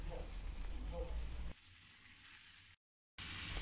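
Fish fries in hot oil with two slices of ginger, giving a dense, steady sizzle that drops to a quieter crackle, cuts out briefly, then comes back loud and close.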